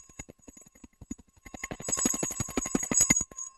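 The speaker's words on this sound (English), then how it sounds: "Here is the bell ringing at..." The US stock market opening bell rings on a live trading broadcast, a fast run of bright metallic strikes that builds and grows louder after a quieter start, continuing to the end.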